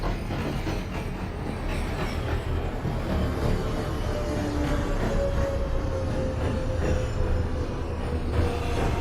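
Simulated NYC Subway R143 J train in OpenBVE, a steady loud rumble of wheels and motors running continuously with a faint rising tonal whine, no talk.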